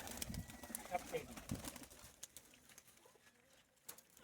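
Domestic pigeons in a household collection, a mix of Oman and teddy-type birds, coo softly in a cluttered room with faint scattered bird calls and wing flutters, someone talking quietly nearby.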